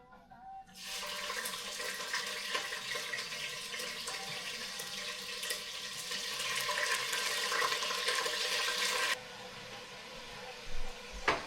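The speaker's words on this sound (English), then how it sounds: "So we're just browning our meat here" Pork sizzling in hot olive oil in a pot, a dense, steady frying hiss that starts abruptly, holds for several seconds, then drops off sharply near the end.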